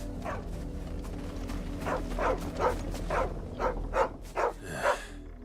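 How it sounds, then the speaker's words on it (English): A dog in the video game Final Fantasy 16 gives a series of soft yips and whimpering barks, about eight short calls quickening toward the end, close over a low background drone with no talk. "A dog."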